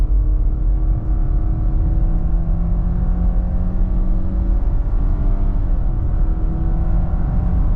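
A 2023 Subaru Outback Limited with a 2.5-litre boxer engine hums with a steady low drone and whir during a revved launch, its tone rising gently and sustained throughout.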